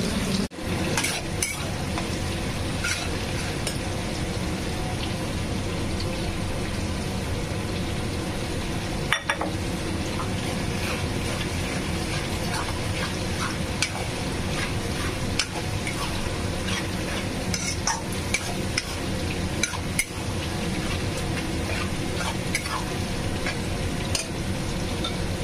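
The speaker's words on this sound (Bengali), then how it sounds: "এদিকে মাছটাও বসিয়ে দিয়েছি ভাজার জন্য।" Fish sizzles steadily as it fries in oil in a pan, a continuous loud crackle and hiss throughout with occasional clinks of utensils against cookware.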